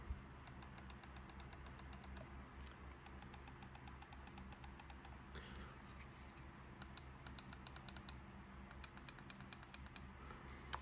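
Rapid clicky presses on the buttons and D-pad of a Mojhon Storm game controller, quiet close-up clicks arriving in quick bursts over a low steady background hum.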